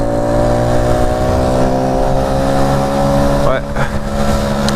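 A motorcycle with worn, tired suspension rolls along steadily at an unhurried Sunday pace, its engine a constant loud drone of harmonic tones, with a brief jolt and wind buffeting near the end.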